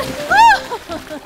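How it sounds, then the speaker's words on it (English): Water splashes during a children's splash competition in an animated lifeguard setting: one short burst of splashing with a bright rising-and-falling tonal swoop at its peak, followed by a few softer sloshes. "Alex, you want to have a splash competition"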